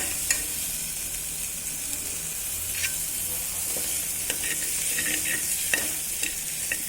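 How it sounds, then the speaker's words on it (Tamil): Sundakkai gravy being stirred in a pan with rock salt, giving a steady low sizzle with scattered soft scraping strokes of the spoon throughout, no voices. "அதுக்காக கிளறி விட்டுக்கிட்டே இருக்கணும்"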